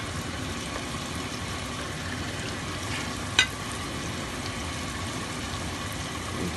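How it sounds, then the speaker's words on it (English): Shrimp fry in a deep fryer with a steady, dense crackle and sizzle of hot oil running unbroken throughout, close by, with one brief sharper pop partway through and no talking. "I'm gonna let that go on and fry, see it frying"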